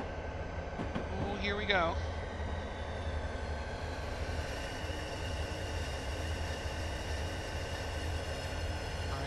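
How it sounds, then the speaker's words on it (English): A freight train in Train Simulator 2015 at Soldier Summit rumbles steadily as it runs down a slope into a short tunnel, with a low continuous drone, a brief squeal and a player speaking briefly over it. "That's the nose of the train onto the slope and into the tunnel."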